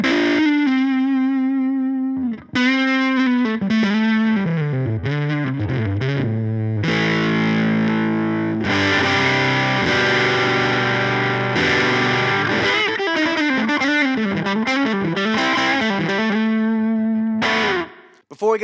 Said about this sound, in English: It's quite a smooth sounding fuzz.